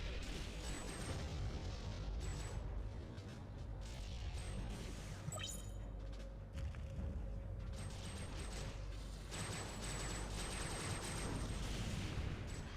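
Gunfire in a PS2 video game running under emulation on a Raspberry Pi 5, a continuous rattle of shooting and mechanical clatter, fairly faint in the mix throughout.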